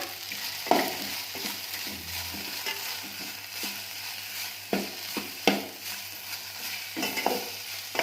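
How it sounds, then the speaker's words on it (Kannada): Tomatoes and turmeric fry in a pan for an okra curry, with a steady sizzle broken by several sharp spatula scrapes and stirs close at hand. No one speaks. "ಇವಾಗ ಟೊಮೊಟೊ ಹಾಕ್ಕೊಂಡು ಚೆನ್ನಾಗಿ ಹುರ್ಕೋಬೇಕು ಇದಕ್ಕೆ ನಾವು ಅರ್ಶಿನ ತಗೊಂಡಿದ್ವಲ್ವ ಅದನ್ನ ಇವಾಗ ಹಾಕ್ಕೊಳ್ಳೋಣ"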